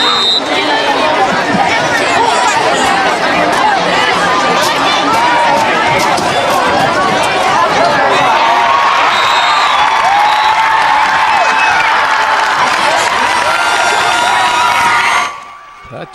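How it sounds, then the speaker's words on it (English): A Friday night high school football crowd roars, the student section cheering and shouting loudly and continuously before cutting off near the end, with chatter mixed in. "look at the crowd here, the student section"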